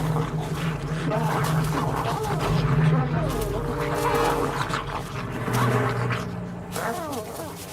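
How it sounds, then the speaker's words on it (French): Dogs attack in a frantic scuffle, snarling and yelping under excited shouting from several people, with continuous growls and whimpers throughout. "Allez les chiens! Attaque, Jupiter!"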